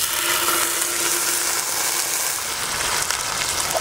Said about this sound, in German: Und dann werden wir anfangen, dass wir uns die Steaks hier drin schön gemütlich anbraten werden.